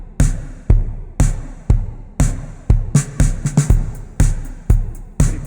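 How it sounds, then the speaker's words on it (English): A punchy drum loop in a steady four-on-the-floor beat, each hit trailing off in a washy reverb tail; loud and close, no voices. "basic drum loop works very well for a 4-on-the-floor pattern that I'm using"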